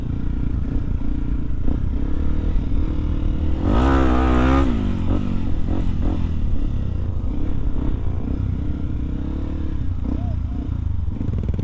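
Trail motorcycles ride up toward Mount Bromo, a steady engine drone with a brief revving surge in the middle and clattering, and people talking over the riding noise.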